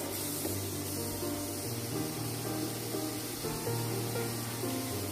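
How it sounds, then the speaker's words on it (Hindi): Chopped tomatoes and spices are stirred and sizzle in a pan for a corn-flour upma, giving a continuous loud frying hiss with faint scraping of the spoon and no talk. "टमाटर को भी अच्छे से मिक्स करेंगे।"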